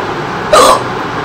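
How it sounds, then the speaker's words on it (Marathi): A single short hiccup pops out sharply over a quiet background, brief and close, with nothing else around it. "उचकी लागले."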